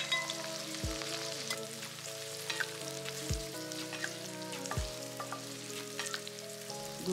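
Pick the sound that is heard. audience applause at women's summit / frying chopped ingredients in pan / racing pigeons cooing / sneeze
frying chopped ingredients in pan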